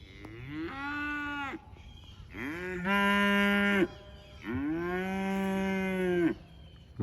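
Cows on a farm with donkeys nearby moo loudly and close, three long drawn-out calls one after another, each rising and holding before trailing off, with no talking.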